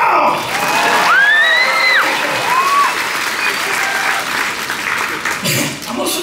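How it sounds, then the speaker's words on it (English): An audience on a cruise ship bursts into loud, sustained clapping with a few whistles and cheers, and a voice speaks over the crowd toward the end. "I would like the applause now!"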